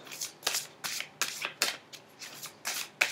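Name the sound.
shuffling oracle cards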